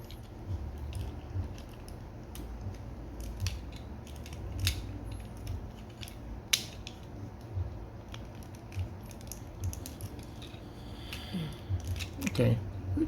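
Plastic parts of a Transformers Legacy United Cliffjumper toy being fiddled with and clicked together, sparse small snaps and ratcheting clicks close by, under someone speaking intermittently.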